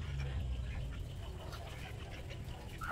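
Ducks at a riverside quack faintly and intermittently against a soft, steady outdoor background, the calls distant rather than close.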